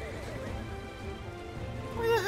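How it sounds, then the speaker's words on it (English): A horse in the Final Fantasy XVI video game whinnies near the end, rising wavering tones over steady game ambience with a rain-like hiss and speech. "Annoying ass horse."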